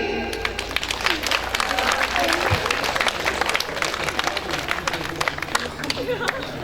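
Audience applause fills a 2012 first-bell school ceremony at the Novorozdil professional college of construction and services: dense, steady clapping from a large crowd throughout, with faint chatter underneath.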